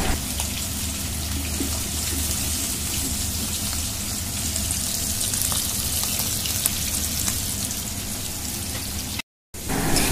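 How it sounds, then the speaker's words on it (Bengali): Hilsa fish fry in mustard oil with a dense, loud, continuous sizzle and crackle close to the pan, holding steady throughout with only a brief dropout near the end and no talk. "তো ফুপু এখন ইলিশ মাছগুলো ভেজে নিচ্ছে"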